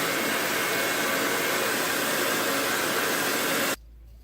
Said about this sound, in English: My hairdryer is too strong for my room